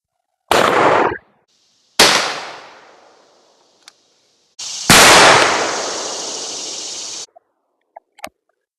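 A Stevens 512 20 gauge shotgun fires Fiocchi Golden Pheasant 2.75-inch loads at a squirrel-hunting pattern target, heard as loud, close blasts with long rolling echoes, followed by a few small clicks and clunks.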